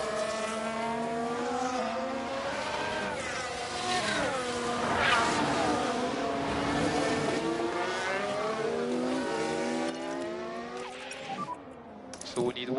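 Formula 1 cars on a flying lap in F1 Manager 23 at Yas Marina, a loud, sustained multi-layered engine whine rising and falling through gear changes, fading near the end as a voice talks over it.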